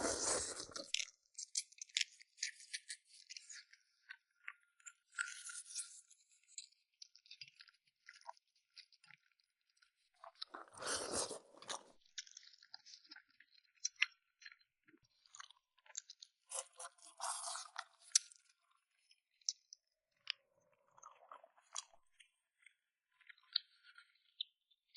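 Braised soft-shell turtle being bitten and chewed up close, with wet crunching and squishy mouth sounds coming in bursts and pauses, no talking.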